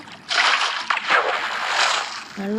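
Water sloshing and splashing in Minecraft, a couple of bright watery surges close by, ending with a short tonal game sound.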